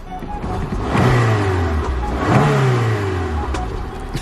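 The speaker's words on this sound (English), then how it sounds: "I told you the car popped" A Peugeot car revs hard twice, each pull a loud rising engine roar that falls away, with sharp exhaust pops and crackles in between, close and loud.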